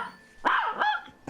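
A small dog, a patient at a vet clinic, lets out two or three sharp, excited barks in quick succession, close and loud with no talk over them.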